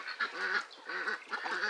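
Ducks on a farm give repeated nasal quacking calls, several in quick bursts, moderately close and a little faint, with no talking.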